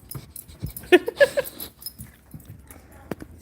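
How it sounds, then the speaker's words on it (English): A puppy indoors gives a few soft whimpers and yelps amid light shuffling and panting, close but quiet, without speech. "There's a puppy."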